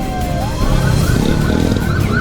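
A police patrol car siren wails over road noise during a motorcycle chase, its rising and falling tone sweeping through, loud and close, with engine rumble underneath.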